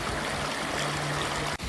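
The Chattooga River rushes over rocks in a steady, loud, close wash of flowing water that continues unbroken through the whole stretch.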